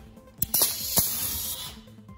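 A Gesipa Firefox pneumo-hydraulic riveter sets a threaded rivet nut with a short burst of compressed-air hiss and a couple of sharp mechanical clicks, close and brief.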